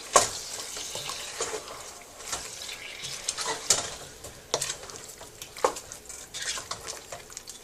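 Close, steady scraping of a spoon through sizzling chicken curry with masala in a pan, with a soft frying hiss and occasional clinks against the metal.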